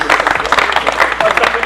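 Audience applause at a MONEYTIME event: a dense, lively burst of many hands clapping close by, with voices mixed in.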